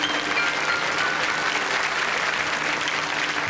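A studio audience gives a young girl contestant on a French children's television singing show a steady round of applause, thick continuous clapping holding at an even level throughout.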